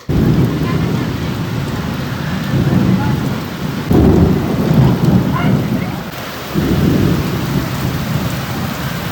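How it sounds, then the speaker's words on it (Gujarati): Heavy rain pours steadily outside a shop while loud thunder booms roll in close, with a sharp crack partway through and rumbling that swells and fades over the downpour. "કોકની માથે વીજળી પડી હશે વીજળી પડી એ પાક્કું જોરદાર"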